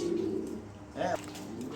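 A pigeon coos nearby, a soft low burbling call with a brief rising coo in the middle, over faint background noise.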